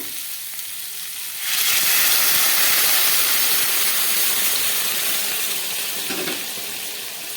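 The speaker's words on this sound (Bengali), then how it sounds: "এবার আমি এর মধ্যে দিয়ে দেবো উষ্ণ গরম জল" Warm water poured into a simmering fish curry after the spices have been fried down, bursting into a loud, rushing hiss and sizzle that rises abruptly, holds steady, then eases slightly toward the end.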